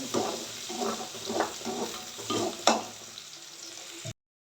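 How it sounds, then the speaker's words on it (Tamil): Onions frying in oil in a kadai, a steady crackling sizzle broken by several stirring scrapes and one sharp clink, close and fairly soft, ending abruptly. "நம்ம கடாயை வச்சு எண்ணெய் ஊற்றி வெங்காயம் போட்டுடலாம்"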